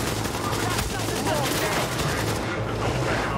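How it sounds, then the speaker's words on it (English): Rapid gunfire in The Division video game rattles in dense, continuous bursts, loud and close, with a voice faintly underneath. "I'm trying to figure out where that fucking gunfire is coming from"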